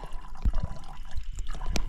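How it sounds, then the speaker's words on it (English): Water trickles and drips close by, with small gurgles and splashes as it runs steadily through a filter from a dirty bottle into a clean bottle. "I filter my water."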